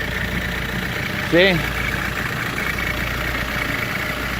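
An Audi A4 B6 TDI diesel idles after a cold start with a steady, even low hum throughout, briefly interrupted by a short spoken word.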